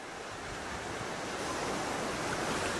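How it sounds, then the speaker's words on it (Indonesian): Ocean surf rolling onto a white-sand beach at Banggai Laut, a continuous broad wash of breaking waves that swells slightly louder, with no voices. "apalagi deburan ombak membuat terapi alam bagi tubuh kita"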